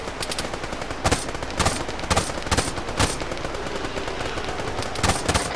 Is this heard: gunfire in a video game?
yes